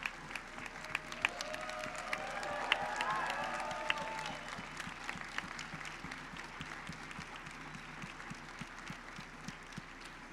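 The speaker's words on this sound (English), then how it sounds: "if we could give them a hearty round of applause" Commencement audience applauds the graduating class's faculty and staff, a dense wash of clapping with some cheering that swells early, then settles into steady, slightly thinner clapping through the end.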